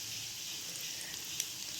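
A Kerala-style chicken meat roll fries on a low flame, giving a steady, gentle sizzle and hiss throughout with one faint tick near the end.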